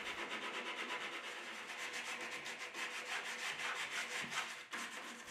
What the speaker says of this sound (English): I'll start with a sander.